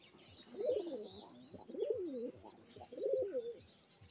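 Pigeons coo in three rounded, throaty phrases, close and clear, as they peck at crumbs of bread scattered on the ground.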